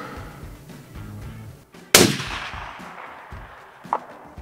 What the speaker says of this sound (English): Breathe and shoot.